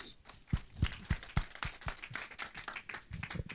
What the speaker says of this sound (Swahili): Makofi mazuri ya mzee baba yetu.